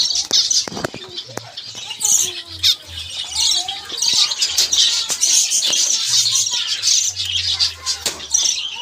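Finches chirp and squawk in breeding cages on a bird farm, close and busy, with bursts of wing flapping and low rumbling underneath.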